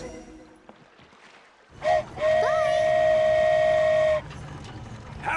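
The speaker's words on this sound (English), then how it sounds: "Wow, a train ride over the sea?" Train ride over the sea in the video game Genshin Impact, with a loud sustained whistle-like tone for about two seconds over a low rumbling rail hum, preceded by a short blast.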